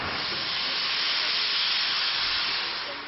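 Steam locomotives being steamed and prepared inside a loco shed give off a loud, steady, broadband hiss of escaping steam that holds constant throughout, with no voices.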